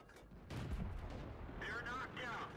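Tank cannon fire in a video game, an M41 tank shooting at enemy artillery: a heavy boom lands about half a second in and rumbles on. Muffled game noise and a whistling tone follow.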